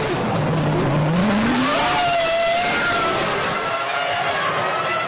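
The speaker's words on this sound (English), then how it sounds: "The engine noises are rising and the formation lap gets underway." Formula 1 cars from the 2005 season rev their engines as the formation lap begins, a loud, rising whine that sweeps upward and blends with further engine tones as cars pull away.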